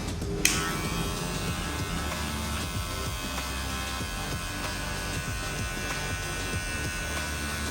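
An electric hair trimmer and shaver cutting a man's hair for a modern mullet, a steady close buzzing hum that switches on early and runs throughout with no talking.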